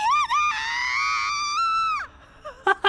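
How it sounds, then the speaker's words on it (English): A female character in the GF2 Corposant 2 story scene lets out a long, loud, wavering scream that bends downward and breaks off, followed by a few shorter strained cries. "Oh, that was a beautiful scream."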